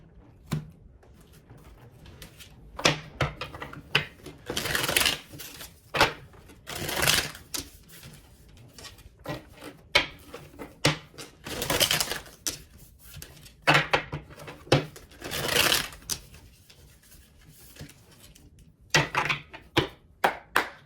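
Tarot cards being shuffled by hand: repeated short riffling, flapping bursts and soft taps in an irregular rhythm, close and fairly quiet, with brief pauses between shuffles.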